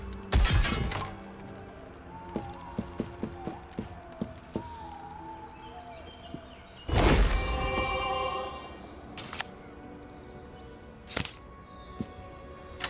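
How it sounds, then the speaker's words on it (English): Rusted lock on a prison cage smashed apart in Demeo x Dungeons & Dragons: a sharp shattering crash after scattered light taps, then further metallic clinks and a second, fainter crash near the end. "Smashing the lock apart"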